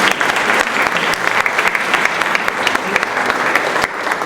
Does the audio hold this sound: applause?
yes